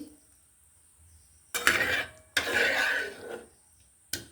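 Kochu (taro) mustard-poppy seed curry cooked in a village kitchen, poured out of a pot: a metallic scrape of pot against dish, then a longer clattering pour and a final sharp clink, close and fairly loud.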